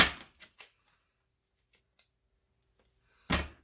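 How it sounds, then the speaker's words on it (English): Scattered papery riffles and taps of cards being handled and shuffled, close and fairly quiet, ending in one louder burst of shuffling. "this is a difficult deck to shuffle"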